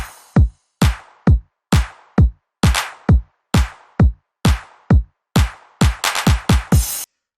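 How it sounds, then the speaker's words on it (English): A punchy electronic drum loop made in LMMS plays alone, with sharp kicks and snappy hits in a steady rhythm, ending in a quick burst of fills. "The first drum loop that you hear sounds like this."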